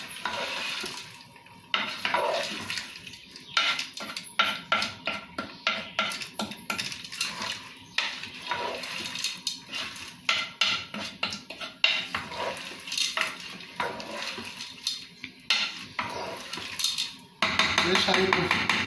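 Beans and assorted meats are stirred in a pot with a metal spoon, giving sharp, irregular clinks and scrapes against the pot over a faint background simmer, with brief stretches of quieter pauses.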